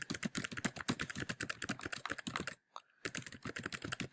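Rapid, steady typing of a paragraph on a computer keyboard, close and clear with dense key clicks, broken by a brief half-second pause before the keystrokes resume.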